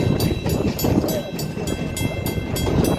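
A Virginia and Truckee steam train with a bay window caboose passes close by as a loud, continuous rumble with a rapid rattling, clattering rhythm of wheels and cars.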